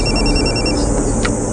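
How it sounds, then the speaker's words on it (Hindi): Telephone ringing, a loud electronic ringtone with repeated pulsing tones that stops partway through, close and alone without any talking. "तब हमारे क्लाइंट का मुझे कॉल आया"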